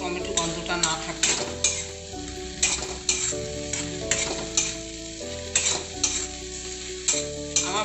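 Tomatoes fry in a pan over high gas for rasam, giving a steady sizzle punctuated by repeated stirring clicks and scrapes. Background music plays underneath, with no talk.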